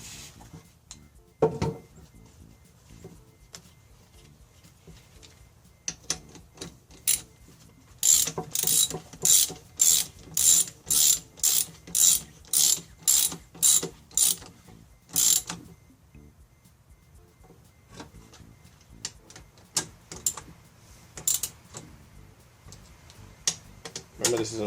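On a Mercedes, T10 ratchet clicks tighten the fuel rail retaining bolts on the aluminum engine block: a long run of fast, evenly spaced clicks sounds up close, with short handling noises before and after.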